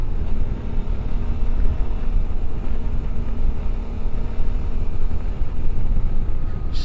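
A Suzuki V-Strom 800 adventure motorcycle's engine drones steadily under a rider at moderate revs, a constant low hum mixed with wind rush, continuous and fairly loud without pauses.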